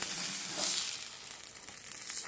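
A green chile chicken quesadilla cooking in a hot pan makes a steady, close hiss of sizzling with a few brief crackles, with no speech over it.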